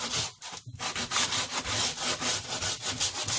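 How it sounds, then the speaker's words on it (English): Wood being sanded by hand to give it a weathered finish, a steady run of close, loud, rasping back-and-forth strokes with only a brief pause near the start. "But I started sanding a little because I wanted it to have a weathered look."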